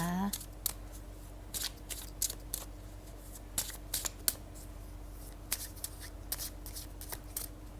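A deck of tarot cards is shuffled repeatedly, giving quick papery riffles and snaps in irregular bursts against a steady low background hum, close to the microphone with no talking.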